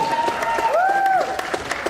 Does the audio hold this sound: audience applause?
yes